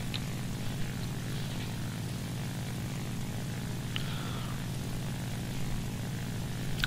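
Steady droning propeller engines of a bomber aircraft in the War Thunder video game, a continuous low throbbing hum with a few faint clicks and beeps on top, no talking.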